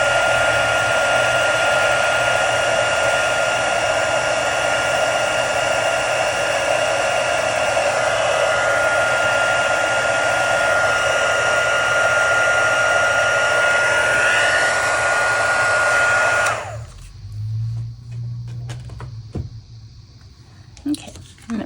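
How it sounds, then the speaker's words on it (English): A heat tool blows over a freshly stamped Stampin' Up birthday card, a loud steady whirring roar that runs unbroken for about seventeen seconds, then cuts off, leaving a few faint handling sounds. "So let me heat set this with my heat tool."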